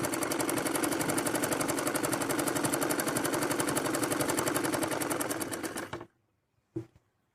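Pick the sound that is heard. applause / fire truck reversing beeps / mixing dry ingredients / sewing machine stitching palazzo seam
sewing machine stitching palazzo seam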